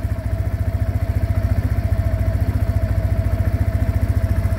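A Mondial Strada 125 motorcycle engine runs steadily close by, with a rapid, even low-pitched thumping pulse and some mechanical clatter throughout. No one speaks over it.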